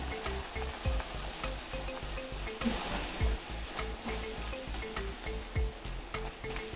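Beetroot poori fries in hot oil, a continuous, fairly quiet bubbling sizzle with a faint regular pulsing, close by and free of speech.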